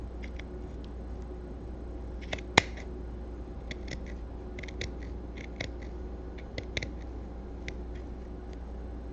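Scissors trim the seam allowance of a spandex glove, giving a scattered series of small, quiet snips and clicks at an irregular pace over a faint steady background hum.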